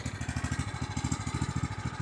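A Husqvarna riding tractor's small engine runs close by with a rough, uneven sputtering beat, pulsing rapidly and steadily throughout with no voices.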